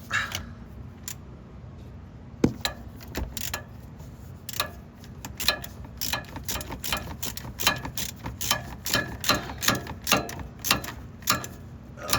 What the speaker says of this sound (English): I'm gonna go ahead and put this bolt back in, torque it down.